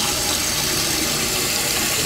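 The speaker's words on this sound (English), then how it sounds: "Let's test flush it," Toilet test flush with the flapper lifting off a freshly rebuilt tank, a continuous loud rushing of water pouring through the bowl for the whole stretch, with no voices.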